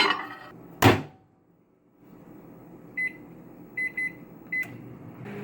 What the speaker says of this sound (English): We just got this steaming, this cooking, and this in the microwave.